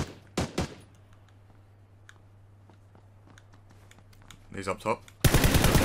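Gunfire in the battle royale shooter PUBG: a couple of sharp shots early, scattered faint clicks, then a burst of rapid automatic fire at the end, with a brief spoken callout between.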